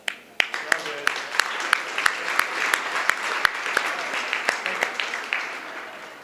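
Applause at a chamber of commerce awards meeting, where a few sharp nearby claps stand out over a thicker round of crowd clapping that swells and then fades away toward the end.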